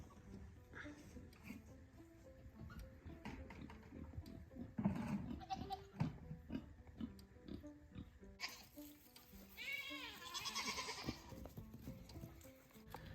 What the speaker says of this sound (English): now I'm gonna go in there and feed the goats